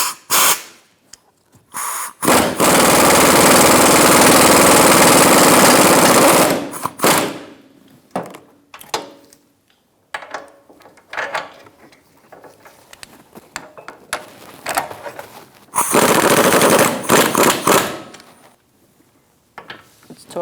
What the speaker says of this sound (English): Once you get both bolts started, you're going to snug them up.